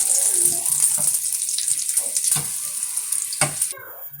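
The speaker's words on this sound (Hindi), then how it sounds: "ये मैं चावल अंदर डाल रही हूँ। पानी मैंने बॉयल होने के लिए रखा था।" Rice being poured into a pot of boiling water while cooking Chinese fried rice, a hissing bubbling wash with a few sharp clinks and splashes of grains dropping in, close up and without talk.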